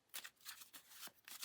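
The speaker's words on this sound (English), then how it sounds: "And I'm just going to shuffle these cards." A deck of playing cards being shuffled up close in a quiet room, giving several quick riffling bursts of crisp papery flutter with short pauses between them.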